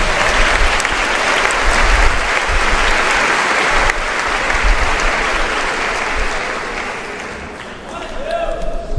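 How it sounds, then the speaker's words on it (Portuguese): A congregation clapping loudly to welcome Pastor Gesiel at a church service, a thick, sustained wash of applause that eases slightly near the end, with a voice speaking over it. "Vamos receber o pastor Gesiel com a linda salva de palmas."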